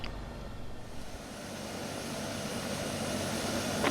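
Simulated aircraft engine in X-Plane 11 winding down as the throttle is pulled back, a steady broadband roar and hum that holds fairly constant throughout, with no talking.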